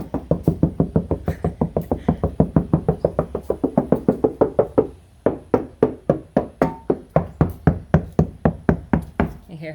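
Steady, rapid knocking on a 2003 Honda Civic door panel treated with Kilmat soundproofing, dozens of evenly spaced raps that grow deeper in pitch, close and moderately loud with no talking.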